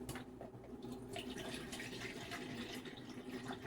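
Two cups of water poured into a cooking pot for grits, a steady trickling and splashing stream that runs unbroken at close range with no talk.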